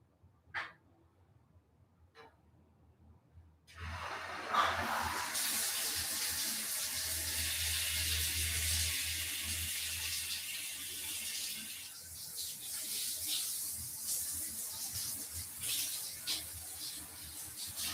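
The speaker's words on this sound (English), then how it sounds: "Now they got the hot and cold water things" A hot-and-cold water tap in a Barranquilla, Colombia lodging is turned on after a few faint knocks and then runs with a steady, close rushing hiss that holds for the rest of the clip.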